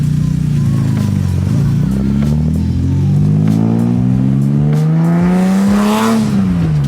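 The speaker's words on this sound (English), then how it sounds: "Wait, we're taking this race car on the highway?" BMW E30 race car with an S54 engine accelerating on a highway, loud close interior engine roar climbing steadily in pitch through the gears, with a brief shift dip and a rising whine near the end.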